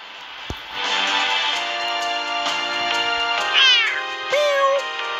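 A cartoon cat in the Toca Life World game meows several times, the drawn-out cries rising and falling clearly over light game background sounds, with no talk.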